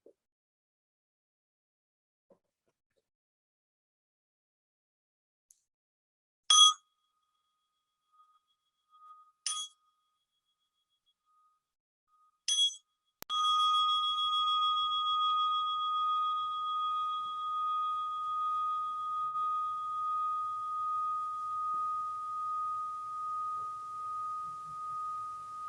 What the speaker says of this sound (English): Just settling in as the sound of the bell trails off.